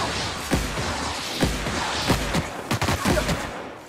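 Rapid bursts of gunfire from The Outer Worlds video game on PS4, loud and close, several sharp shots at uneven intervals with a dense, continuous game background and no talking.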